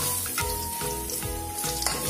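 Tempeh slices fry in hot oil after being flipped, their edges scorching, with a dense, steady sizzle and crackle broken by a few short stirring or scraping bursts, close and continuous with no voices.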